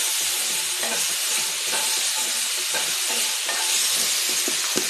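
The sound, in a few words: frying in oil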